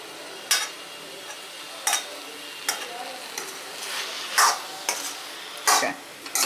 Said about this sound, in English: Now let's mix this nicely